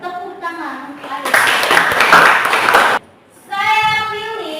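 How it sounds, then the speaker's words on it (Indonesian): A high school class bursts into brisk group clapping for just under two seconds, loud and close, with speech before and after. "Tepuk tangan."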